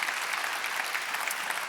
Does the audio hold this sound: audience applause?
yes